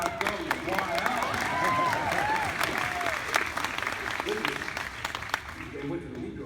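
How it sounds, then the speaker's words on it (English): An indoor crowd applauds steadily at a horse expo, the clapping sustained through the moment while someone talks over it and a horse's movements sound faintly nearby. "And the crowd goes wild."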